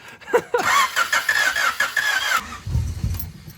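A flooded third-generation Honda Prelude with a carburetor cranks and struggles to start, the starter whirring steadily for a couple of seconds before cutting out into a low rumble, close and loud.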